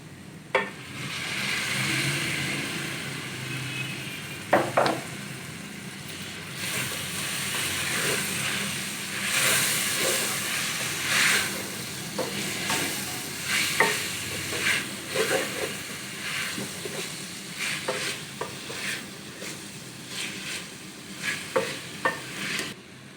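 Tomatoes frying and being stirred in a pan for chicken macaroni, a steady low sizzle broken by repeated scraping strokes and clinks of the spoon, close and moderately quiet, with no talking.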